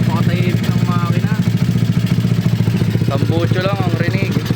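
A Mio motorcycle fitted with a 192cc engine idles steadily just after starting, a low even putter with the exhaust note under nearby talking.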